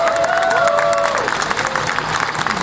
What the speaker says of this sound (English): Could you please give them a round of applause?